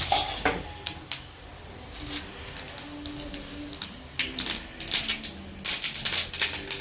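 Mustard seeds crackle and pop in hot oil with brown onion, scattered sharp ticks in irregular bursts against a quiet background, clustering thicker toward the end.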